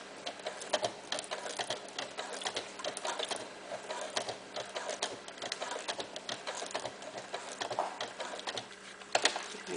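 A sewing machine stitches velcro onto a cloth diaper, its needle ticking in a quick, steady mechanical rhythm with brief pauses, close and moderately loud throughout.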